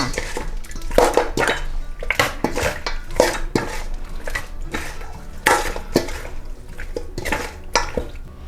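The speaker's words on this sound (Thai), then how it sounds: "พอน้ำตาลละลายดีใส่หมูนะคะ ซี่โครงหมูค่ะวันนี้พี่ดาใช้เป็นซี่โครงอ่อนนะคะ คนส่วนผสมทั้งหมดให้เข้ากันค่ะ" Pork ribs are stirred in a pan of melted sugar, with repeated sharp clinks and scrapes of a utensil against the pan in an irregular rhythm, close up over a faint wet sizzle, with no talk.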